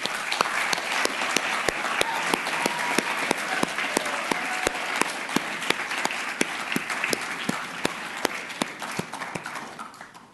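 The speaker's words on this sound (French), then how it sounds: "Je pense qu'ils méritent une autre main d'applaudissement." Sustained audience applause for musicians at a philosophy-week music event, an even wash of many hands clapping for about ten seconds with a few sharper close claps, tapering slightly at the end.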